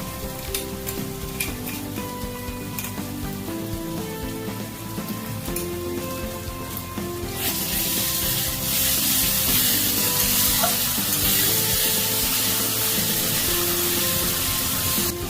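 A ground paste of green chili, garlic and ginger hits a hot pan and bursts into a loud, steady sizzle about halfway through. Soft tonal background music plays before and under it.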